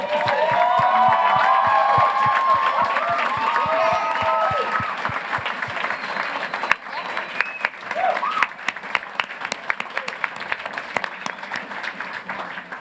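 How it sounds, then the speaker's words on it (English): At a celebration event, an audience gives loud, sustained applause with cheers and whoops for mentors, tutors, supervisors and speakers, while voices call out over it; the crowd noise fades into scattered, sharper individual claps. "I'd like to ask all mentors, tutors, supervisors, and speakers to stand and have everyone join me in a round of applause."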